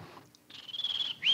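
A man imitates a bird call with his voice, a short run of quick, high warbling chirps, close and fairly loud, ending in a brighter rising whistle.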